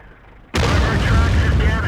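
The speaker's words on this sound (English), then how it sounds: "There's a nice artillery shell inbound." An artillery shell lands in World of Tanks with a sudden loud, heavy blast. It cuts through a quiet moment and leaves a dense, roaring rumble that carries on to the end.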